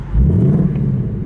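2024 Ford Mustang GT premium exhaust in track mode, a loud close rumbling rev that swells quickly and holds a steady throaty drone for about a second, with no talk over it.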